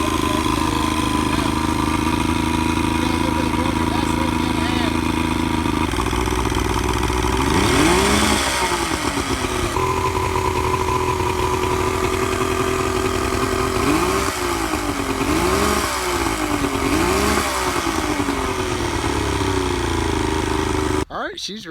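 Older carbureted boat engine running near at hand, a steady rough idle with a few quick revs and pitch swoops, while someone talks over it.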